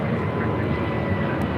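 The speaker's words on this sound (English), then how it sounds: "This is Spirit Airlines 631 taking off to Atlanta, Georgia on an A320 Neo" A Spirit Airlines A320neo takes off, giving a loud, continuous, broadband engine roar that fills the short moment without a break.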